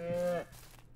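A single short cow moo in the farming video game Ranch Simulator, close and fairly low, ending abruptly and followed by quiet ambience.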